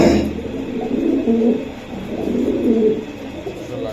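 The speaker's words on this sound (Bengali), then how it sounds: "এই যে দেখেন খুবই সুন্দর কবুতর" Pigeons kept for sale, including racer and Giribaz types, coo in soft, throaty, repeated phrases that roll on steadily and close by for the whole stretch, with no talking.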